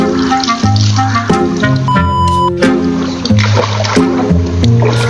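River water splashes steadily and loudly at close range, with continuous rushing and spattering under a backing music track.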